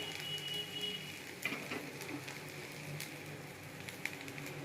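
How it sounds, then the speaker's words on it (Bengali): Shrimp bharta fries in a pan, a faint, steady sizzle with light crackles and a few soft stirring taps close by. "একটু ভাজা ভাজা করে নিই"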